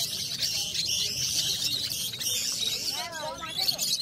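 Birds chirp and call in short bursts over the steady hubbub of a rainy-season pigeon market at Shantipur haat, with people talking close by throughout.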